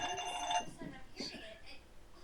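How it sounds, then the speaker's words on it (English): A telephone rings with an incoming call during a tabletop role-playing game session, a short ringing tone at the start with people talking over and after it. "get a phone call."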